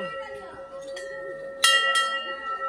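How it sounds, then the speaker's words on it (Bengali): A temple bell rung by hand gives two bright, ringing strikes that hang over the background chatter of people nearby. "ঘন্টাটা আমিও বাজিয়ে নি তো"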